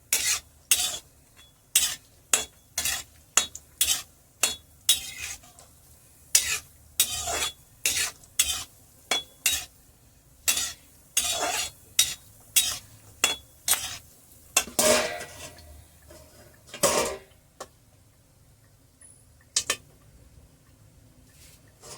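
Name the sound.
edible gum (gond) puffing and crackling while frying for laddu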